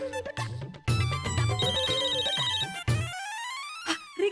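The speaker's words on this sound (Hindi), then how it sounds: "रिंग जा रही, रिंग जा रही।" A loud, melodic phone ringtone plays in a bright repeating pattern, then thins to a lighter chime near the end.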